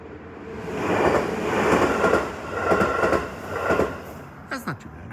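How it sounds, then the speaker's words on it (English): A JR main line train passes along the old Tokaido highway area, a broad rumbling roar that swells and fades in waves with clattering wheel noise and a brief squeal near the end, heard nearby. "Here comes the train."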